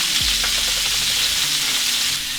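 Tomatoes, onion and other vegetables sizzle steadily in hot olive oil in a pan, a loud, continuous frying hiss with a faint stir or two and no talking.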